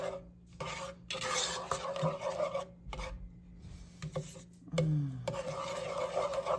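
A spoon scrapes and rasps against a pot while salted apple cider caramel sauce is stirred, in short, close, uneven strokes separated by brief pauses.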